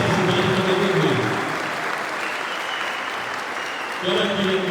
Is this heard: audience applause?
yes